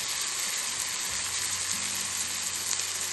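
Finely chopped eggplant slices frying in hot oil with softened tomato for a dry vegetable dish, giving a steady, close sizzle and crackle throughout with no talk.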